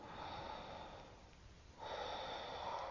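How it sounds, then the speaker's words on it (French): A deep breath during a yoga session, a steady airy inhale, a short quiet pause, then a fuller breathy exhale, close and soft. "Encore une grande respiration."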